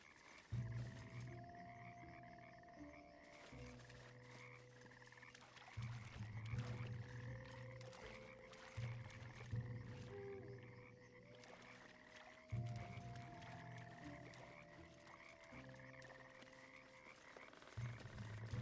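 Boggard frog people in the video game Pathfinder: Kingmaker croak in repeated low, throaty calls, overlapping in rhythmic waves over a faint background, with no talk.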